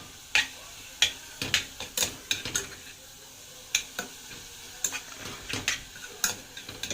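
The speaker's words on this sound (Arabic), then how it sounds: "نقلب اللحمه" Minced meat seared in a pan while a spoon stirs and scrapes it, bright clinks and knocks at an irregular pace over a low background sizzle, close and fairly loud.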